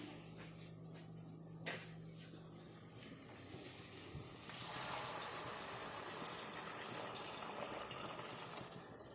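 Boiling water pours steadily into a vessel, rising into a fuller rushing splash partway through, close and moderately loud, with no speech.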